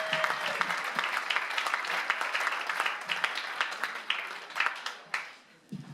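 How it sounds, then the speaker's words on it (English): Audience applause for a comedian at a comedy night, a loud sustained burst of clapping from the crowd with a few whoops, thinning out toward the end. "Let's give a round of applause for John Campbell"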